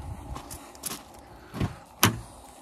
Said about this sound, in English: Doors open nice and wide, easy to climb into.